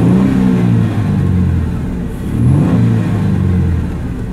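A 1999 Ford Mustang with a V6 engine at 81,000 miles revs loudly up close, the engine note rising and falling through two swells over a steady rumbling idle.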